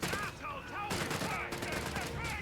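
Rapid machine-gun fire from a .30 cal position in Company of Heroes 3, with dense overlapping bursts of gunshots amid battle noise, heard under faint commentary.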